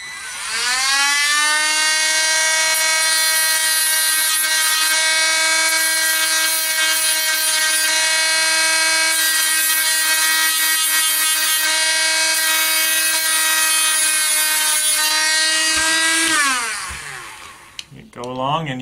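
A worn sanding drum whines steadily at high speed roughing RC car drive shaft pins, strong harmonic tone, loud and continuous for most of the clip, then spins down near the end.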